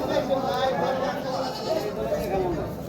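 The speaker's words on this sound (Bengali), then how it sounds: "দেখুন কি পরিমাণ ভালো ভালো সুন্দর ছাগল আপনারা পেতে পারেন এই বড়হর হাটে" Goats bleating at a busy outdoor livestock market, several calls rising over a steady crowd murmur while someone speaks close by.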